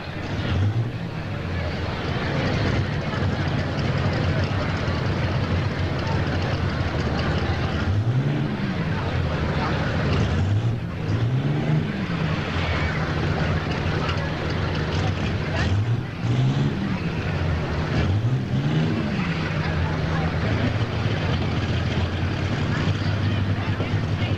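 An Allis Chalmers 8070 tractor at a tractor pull in Ohio, heard as a loud, continuous engine drone with repeated rising revs over wind noise, while an announcer talks over it.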